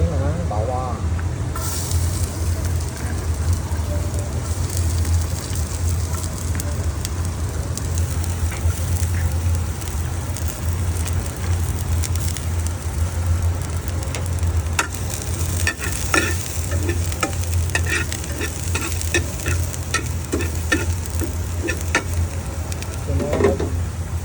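Garlic dropped into a hot pan for a wild mushroom adobo, giving a continuous loud sizzle and crackle with repeated stirring scrapes, sometimes sharper bursts, and a muffled voice in the background.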